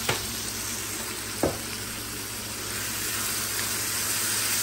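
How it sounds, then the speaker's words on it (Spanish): Fried rice ingredients, chopped peppers and onion, fry in a hot pan for Peruvian arroz chaufa, giving a steady close sizzle with a couple of brief stirring clatters and no talk. "que se fría solo un poquito"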